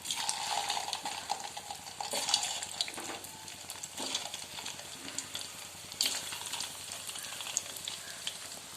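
Chicken balls frying in hot oil, giving a continuous close sizzle with occasional light clinks and stirring sounds from the pan; no talking.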